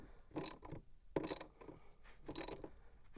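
Fasteners on carbon fibre interior trim in a 2023 Subaru WRX are tightened, giving three quiet bursts of close ratcheting clicks in a steady rhythm.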